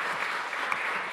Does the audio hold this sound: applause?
yes